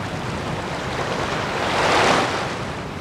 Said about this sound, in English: The constant rolling of the waves took some time to get used to.